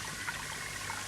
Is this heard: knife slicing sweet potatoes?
no